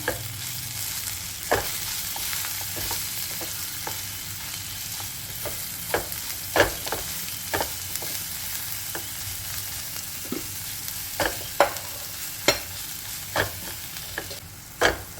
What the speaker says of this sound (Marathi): स्वादानुसार नमक टाकते हे आपण छान मिक्स करून घेऊया